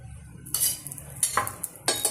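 Ghee spread over an aloo paratha on a hot griddle crackles in short bursts, with a few soft scrapes and taps of the spoon between the hisses.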